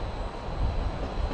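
A Stadler FLIRT electric multiple unit passes at a Budapest station, a steady, loud broadband rumble of wheels and motors with no pauses.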